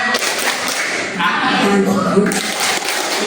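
Children at a Jakarta primary school workshop for National Children's Day clap a rhythmic hand-clap chant together, loud and close, with a group of voices chanting along over the claps.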